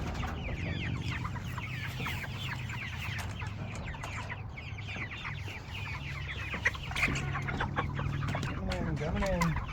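A group of young chickens clucks and chirps continuously in a coop, busy overlapping calls at moderate distance with a steady low background hum.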